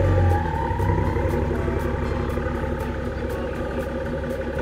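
A BMW E60 diesel runs with a thick, steady low rumble, a thin turbo whistle riding above it and a regular ticking pulse throughout, heard up close.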